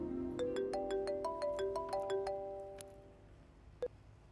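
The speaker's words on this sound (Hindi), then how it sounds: "बिलाल उठाओ, देखो किसका फोन है।" A phone ringtone plays a repeating melodic pattern of bright electronic tones for a few seconds, then stops; a faint click follows near the end.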